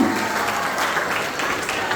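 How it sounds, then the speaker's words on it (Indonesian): A church congregation at a Christmas service applauds in a dense, continuous wash of clapping from many hands, loud and steady throughout the short stretch. "Berikan tepukan."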